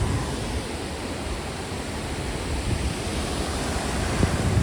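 Ukshi Ranpat waterfall in Ratnagiri pouring down in a steady, dense roar of rushing water, continuous and fairly loud with no voices over it.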